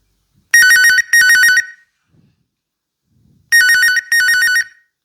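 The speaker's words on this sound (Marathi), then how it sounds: "कोणाचा फोन वाजला" A telephone rings loudly in a home: two quick double-ring bursts, a pause of nearly two seconds, then two more, with nothing else audible between them.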